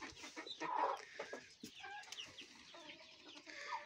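Young Brahma Isabelle chicks clucking and peeping close by, several soft calls overlapping in an irregular stream with a louder burst near the start.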